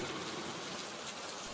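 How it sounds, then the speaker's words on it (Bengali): Steady rain pours in an animated cartoon scene, a soft, even wash of hiss that stays constant throughout with no voices or other sounds. "বৃষ্টি হচ্ছে তো, আমার কাছে তো ছাতা নেই।"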